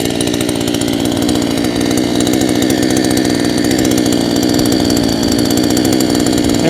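A Proyama PCS62 gas chainsaw idling up close, a loud, steady buzzing engine drone that holds constant throughout with no revs or voices.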